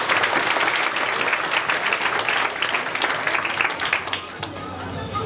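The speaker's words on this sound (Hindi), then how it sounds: "तो आप लोग एक बार अपने लिए तालियां बजा सकते हैं।" Audience applause fills a felicitation ceremony for NEET 2020 selected students at a career institute, a dense, steady wash of many hands clapping for about five seconds before tapering slightly.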